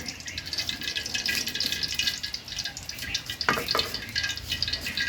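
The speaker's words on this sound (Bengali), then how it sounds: "কড়াই গরম হয়ে গেছে এবার কড়াইয়ে তেল দিব" Cooking oil goes into a hot wok in a rural kitchen, setting off a continuous close crackle and light sizzle with a few sharp splattering pops, heard alone without talk.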